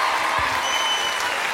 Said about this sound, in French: On va les applaudir une dernière fois.